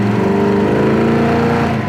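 A 1963 Chevy Nova panel delivery's engine revs up loud and close as the throttle is pressed, a steady harmonic roar rising slightly in pitch with no talking.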